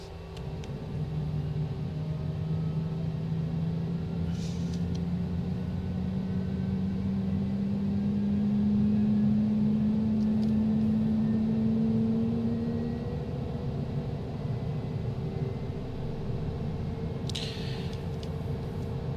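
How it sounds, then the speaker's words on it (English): A light aircraft engine on a flight leg from Singapore to Jakarta runs steadily with a low droning hum whose pitch climbs gradually as it spins up, a continuous, fairly quiet rumble with faint clicks. "start up the engine"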